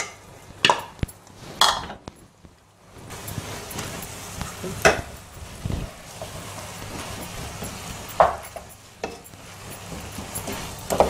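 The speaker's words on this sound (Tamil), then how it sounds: "நல்லா கட்டி பிடிக்காம நல்லா அழகாக எடுத்து போட்டு கிளறி விடணுங்க" Cooked rice being stirred into a tawa rice mixture in a pan, giving scraping, sizzling stirs in several separate bursts over a steady low fry, close and moderately loud with no talk.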